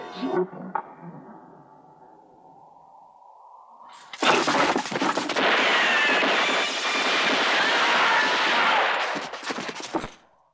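After a quiet low hum, loud rapid gunfire from a Sergio Leone film bursts in and rattles continuously for several seconds, dense and close, then cuts off abruptly.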